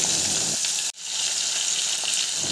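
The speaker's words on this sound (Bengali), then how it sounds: "অন্য মাছের পিসগুলো দিয়ে এবার ভেজে নেব" More chital fish pieces go into hot oil and fry with a loud, continuous sizzle up close, cut by one sharp momentary break before the hiss resumes.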